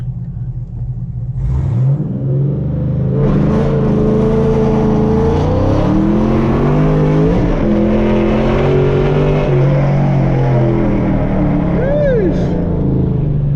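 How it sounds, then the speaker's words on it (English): An Infiniti G35 with bagged suspension and lowered tire pressure makes a practice launch: the engine revs up into a loud rising roar that holds strong and close, with a voice speaking over it. "let's do a little practice launch real quick."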